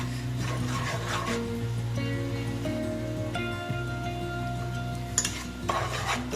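Spice powder is stirred and dry-roasted in a pan, making soft scraping and occasional clinks over a quiet background hum, with no voices.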